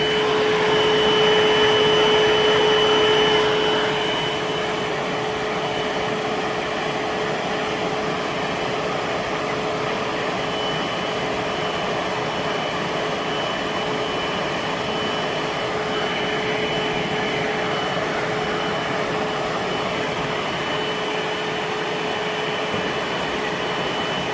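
Bissell SpotBot Pet hands-free portable stain cleaner running its carpet drying cycle, a steady loud whirring hum with a faint high tone, slightly louder for the first few seconds then constant.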